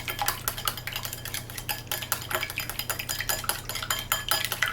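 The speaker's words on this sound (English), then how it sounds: "To 1 egg, I add in some milk, and I'm just going to whisk that to create an egg wash." A single egg with milk is whisked briskly in a bowl, giving a steady stream of quick, rapid clinks and scrapes that continue without a break and with no talk.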